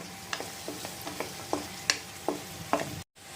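Onion and garlic fry in a pan for chicken curry with a constant close sizzle, punctuated by several sharp spatula scrapes and stirring knocks at irregular intervals before the sound cuts out briefly at the end.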